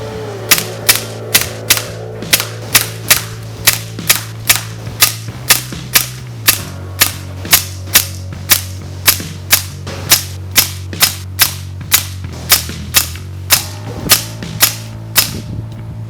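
Air gun firing lightweight slugs during a shooting test, a long steady series of about thirty sharp, loud cracks spaced roughly half a second apart over a constant low hum, with no talking.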